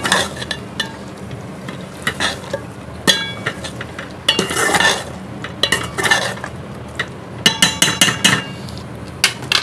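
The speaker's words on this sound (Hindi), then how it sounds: "हरी मिर्च धनिया ऐड करने के बाद इसको थोड़ा मिक्स कर लेंगे" A spoon clinks and scrapes in a pan as chicken mince is stirred with freshly added green chilies and finely chopped coriander. The scraping comes in irregular bursts, close and fairly loud, with no voices.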